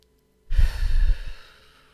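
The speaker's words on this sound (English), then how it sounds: "We're breathing." A slow, audible breath during a guided meditation, a soft sigh-like exhale that starts after a half-second of silence and fades out over about a second, close and alone.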